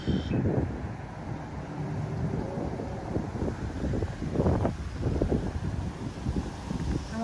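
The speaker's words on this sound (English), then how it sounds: "Okay, so it's super windy. I hope you can hear me." Strong outdoor wind buffets the microphone in a continuous low, rumbling roar with gusty surges throughout, loud and close, with no clear talk.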